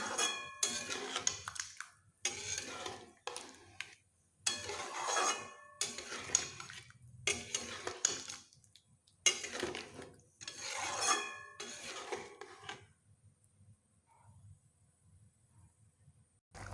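Potatoes and spices mixed with a little water in a metal pan, a utensil scraping and clattering in repeated bursts of stirring with short pauses between, close and clear, then falling quiet at the end.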